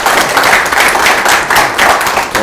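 Listeners at a political debate forum applaud a speaker. The clapping is close, loud and dense, with rapid overlapping hand claps sustained for the whole short stretch.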